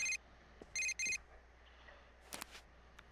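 A telephone rings in the Persona 4 video game, three bright electronic trills in short bursts, followed by a few quieter clicks and soft game sounds.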